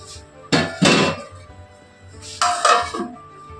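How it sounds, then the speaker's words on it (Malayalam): Metal clanks twice near 0.5 and 0.9 seconds, then again around 2.5 seconds, as a lid settles onto a pot of potato masala curry, with a few lighter rattles between. "ഇനി നമുക്കിത് നന്നായിട്ട് അടച്ച് വെക്കാം."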